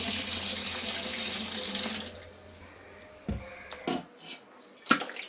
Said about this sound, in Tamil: நல்லா ஒரு 4 தண்ணி ஊற்றி கழுவிக்கணும்